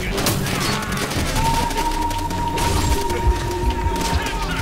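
Rapid gunfire in Call of Duty: World at War, played on Xbox One, as dense continuous bursts and booms under a sustained high tone, loud and close throughout.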